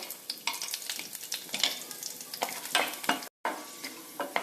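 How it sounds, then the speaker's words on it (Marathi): Peanuts roasting in hot oil with crackling mustard seeds and cumin, a close, busy sizzle with sharp popping bursts and stirring scrapes, briefly cut to silence near the end. "त्यामध्ये थोडेसे शेंगदाणे आधी आपण भाजून घेऊया"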